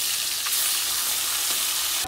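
Onions sizzle and fry steadily in hot oil in a pan for a banana curry, a continuous close crackling hiss with no voices.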